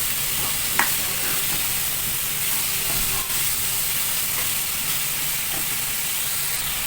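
Chicken soup ingredients are stirred in a cooking pot over a steady, close hiss and sizzle, with a few faint scrapes and taps of a utensil and no voices.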